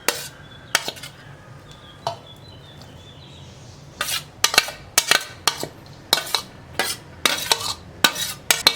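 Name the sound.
mixing chopped vegetables together in a bowl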